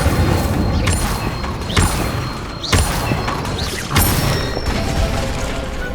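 An Incendio fire spell cast in the video game Hogwarts Legacy, heard as several loud booming bursts with crackling, whooshing tails, repeating roughly every second over dense, noisy game combat.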